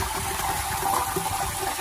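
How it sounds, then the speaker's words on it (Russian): Water boils and sizzles against the scorching oil pan underneath a 1979 Ford truck engine, a steady bubbling, hissing wash of sound heard close and alone for under two seconds. "это вода стекает к масляному поддону. Это дно масляного поддона такое горячее."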